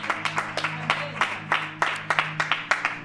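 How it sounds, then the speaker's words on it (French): A church congregation applauding in rhythmic, fairly loud claps with steady beats and a low hum beneath, no talk over it. "Acclamons le Seigneur juste là pour la gloire de Dieu"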